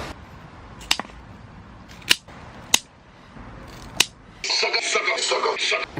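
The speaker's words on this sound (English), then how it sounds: "I'm using scissors just to be, sort of a bit more careful." Several sharp, isolated scissor snips through tomato plant stems, spaced about a second apart, followed by a burst of rustling foliage.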